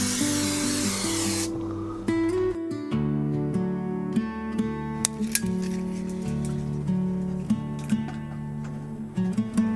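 A loud hiss of aerosol spray onto van roof sound deadening blasts for about a second and a half, then stops; a steady musical background continues afterward.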